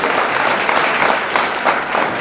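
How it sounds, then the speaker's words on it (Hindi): A crowd at a Hindi poetry gathering (kavi sammelan) in Seoni gives hearty applause for a poet, with loud, thick clapping that pulses slightly and continues without a pause. "एक बार जोरदार तालियां हो जाए भाई अवनीश पाठक जी के लिए।"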